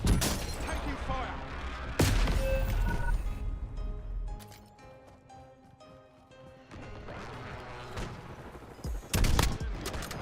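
Sharp gunshot bursts and impacts from a shooter video game punch through a busy in-game mix, with loud volleys at the start, a quieter middle and more shots near the end.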